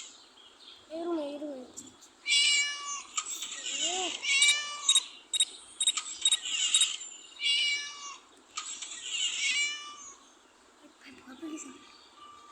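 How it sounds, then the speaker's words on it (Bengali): A cat meows in the Scary Teacher video game, several short mewing calls spread through the clip over game background sounds, with someone talking at times. "বিড়ালটা কোন রুমে এটা তো বুঝতে পারতেছি না।"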